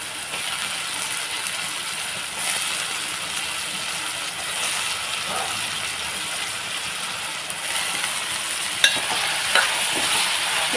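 Raw plantain pieces fry in oil, producing a continuous, even sizzle close by with occasional light clicks and scrapes of stirring toward the end.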